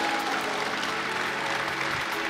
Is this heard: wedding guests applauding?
yes